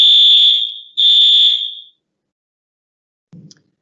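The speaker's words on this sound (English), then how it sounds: "That was an alarm that just went off." A fire alarm sounds inside an office building under construction: two loud, piercing high-pitched beeps about a second each, then silence and a faint brief knock.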